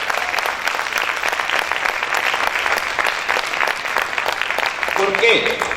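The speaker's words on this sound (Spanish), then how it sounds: "¿Cuántos pueden aplaudir fuerte al Señor?" A church congregation applauds loudly, a sustained dense roar of clapping from a crowd, steady throughout with voices and cheering mixed underneath.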